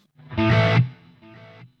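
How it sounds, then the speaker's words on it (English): Electric guitar through a Quad Cortex with distortion and delay blended by an expression pedal: a loud, saturated chord rings out, then a fainter delayed repeat of it follows alone. "Now I will raise the pedal. The distortion I had assigned earlier will increase, but the delay will decrease."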